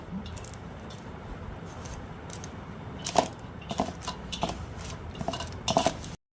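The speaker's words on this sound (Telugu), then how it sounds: "వేసుకున్న తర్వాత మొత్తం అంతా కలిసిపోయేటట్లు కలుపుకోవాలి." Peanut chili powder is mixed by hand in a bowl, giving a soft gritty rustle with several spoon clinks against the bowl and a few sharper taps toward the end, close and quiet.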